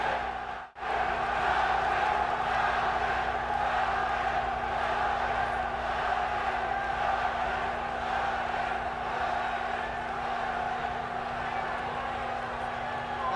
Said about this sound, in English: this Swiss crowd really chanting and going crazy with the possibility, anyway, that the German could win